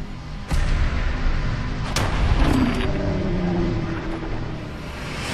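Cyberlight hand-cannon firing in a modded Fallout 4 game: a sharp shot followed by a second crack, with a rumbling, fairly subdued boom and ringing tail.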